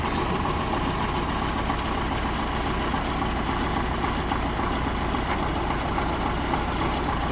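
Repaired tractor engine idling after being started at an orchard, a steady low mechanical rumble with a fast, even chug that continues at constant level throughout, with no talking.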